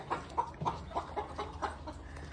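Chickens clucking on a farm, a steady run of short, evenly spaced clucks close by, with no talk over them.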